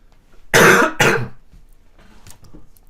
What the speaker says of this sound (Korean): 기침 나왔어요.